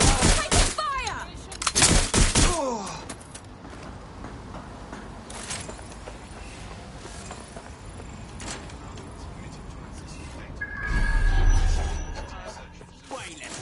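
Gunfire in the video game Watch Dogs Legion opens with a burst of sharp, rapid shots, then fades to a low background hum before a muffled heavy thump swells near the end.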